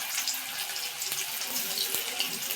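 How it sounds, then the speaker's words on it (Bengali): A kitchen tap runs steadily while cut potatoes are rinsed under it, the flow close and even, with small clinks and splashes from the pieces. "আলু কাটাটা একটু ধুয়ে"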